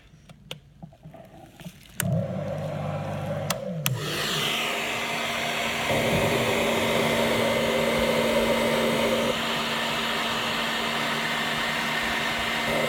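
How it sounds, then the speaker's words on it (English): A hair dryer set to cold air switches on with a click and runs as a steady, loud blowing whirr drying a flat latex prosthetic piece, after a few quiet handling sounds. "I'm going to just put my hairdryer on cold air, and then I'm going to dry it"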